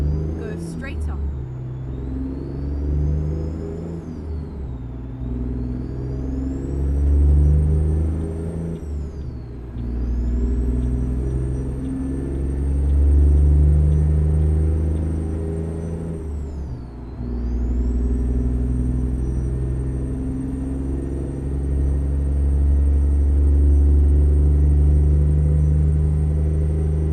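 A heavy truck engine in American Truck Simulator drones and labors at high revs without upshifting, a loud continuous rumble with pitch swells and dips, under steady talk.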